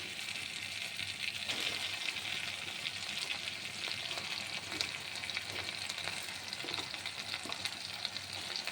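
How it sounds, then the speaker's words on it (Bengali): Marinated chicken hits hot spiced oil and sizzles steadily, a continuous bright crackling fry with occasional small pops and stirring scrapes, fairly quiet and free of talk. "এবারে আমি মাংসটা দিয়ে দেবো, যেটা ম্যারিনেট করে রেখেছিলাম।"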